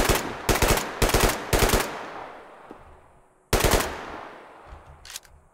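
Loud, close automatic gunfire in the video game Survarium, heard as four rapid bursts followed by a fading echo, a pause, then one more burst and a short faint rattle.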